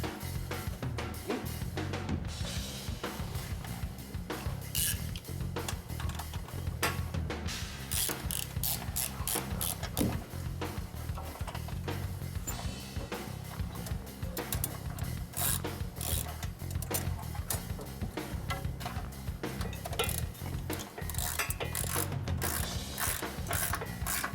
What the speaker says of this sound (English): why don't you tighten the clamps up